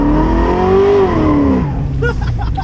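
A 1967 Camaro's engine revs under throttle during a test drive after a tune-up, rising in a smooth loud climb and then dropping away as the car shifts.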